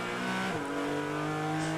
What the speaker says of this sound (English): But it should be the horsepower of the Ford Mustang.